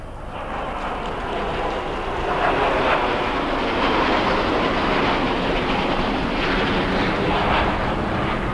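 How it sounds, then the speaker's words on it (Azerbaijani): MiG-29 fighter jets fly over a 2011 Azerbaijani military parade, a loud, steady, broadband roar that swells slightly after the first two seconds and holds without pause. "MiG-29 tipli təyyarələr."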